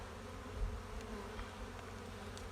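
Bees crowding the frames of a strong hive at an early-spring check give a thick, unbroken low hum, close and steady throughout, with no talk over it.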